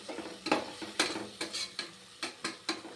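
Tomato masala for biryani being stirred and sautéed in a pan, with a series of sharp spoon scrapes and knocks against the metal roughly every half second over a soft sizzle.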